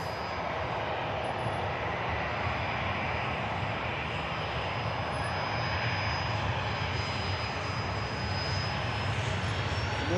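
An airliner's jet engines roar on the takeoff roll at Manchester Airport as a steady, broad, loud rumble that holds throughout, with a faint high whine above it.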